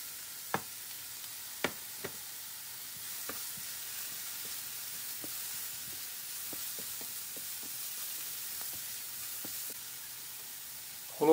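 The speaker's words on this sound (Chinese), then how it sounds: "等闻到洋葱的香味即可加入胡萝卜翻炒" Diced onion and carrots stir-fried in a wok for curry fried rice, a soft steady sizzle with scattered light clinks and scrapes of the spatula, fairly quiet and close, no voices.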